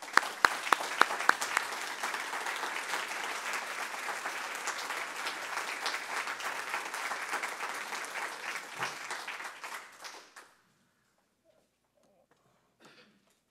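An audience claps to welcome a speaker at a talk about bald eagles. A few loud early claps swell into full, steady applause that fades out around ten seconds, followed by near silence.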